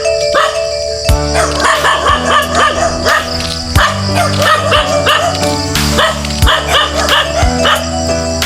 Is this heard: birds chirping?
no